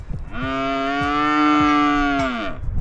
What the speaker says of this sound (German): Oh, da unten sind noch Kühe.